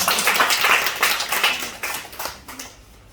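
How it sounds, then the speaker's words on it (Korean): Members of a church congregation clap together during a Sunday worship service, a brisk burst of many hands that swells early and then gradually thins and fades away. "우리 다시 한번 우리 격려해 박수합니다"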